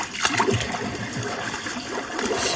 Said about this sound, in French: je vais récupérer la source d'eau qui est ici